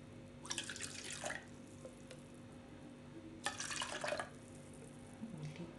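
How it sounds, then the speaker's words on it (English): Rose water is poured into a measuring container for homemade glycerin soap base, giving two soft splashing, trickling bursts over a steady low room hum, with no talking. "So you add your 100 ml of your rose water."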